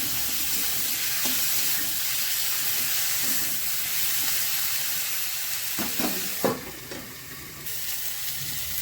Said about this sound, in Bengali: আদা কুচিটা দিচ্ছি, গ্রেট করা আদা, এটা একসঙ্গে কষানো হবে।